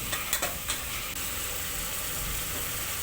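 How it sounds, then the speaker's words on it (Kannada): Chopped tomatoes with turmeric powder stir-frying in a pan while cooking dal, giving a steady close sizzle with a few brief clinks of a spoon against the pan near the start. "ಟೊಮೆಟೊನ ಸ್ವಲ್ಪ ಹೊತ್ತು ಬಾಡಿಸಿ ಸೊ ಅದು ಚೆನ್ನಾಗಿ ಫ್ರೈ ಆಗಬೇಕು ಆ್ಯಕ್ಚುಲಿ"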